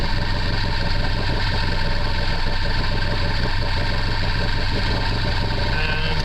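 Bayliner Capri 1802 boat engine running at a steady 1200 RPM, a constant close mechanical drone with a fine knocking rhythm, one short spoken word at the start.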